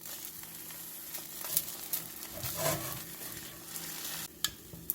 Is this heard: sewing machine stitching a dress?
no